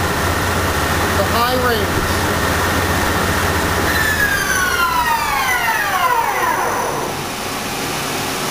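Dainichi MG75 CNC turning machine with its spindle running at 1800 RPM, a loud steady whine with a sweeping pitch partway through, a voice briefly heard over it.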